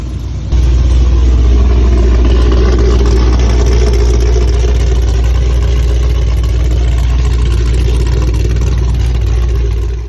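A V8 crate engine destined for a Porsche 997 swap runs steadily on its stand, a loud, close, deep rumbling idle that holds a constant throbbing note with no voices over it.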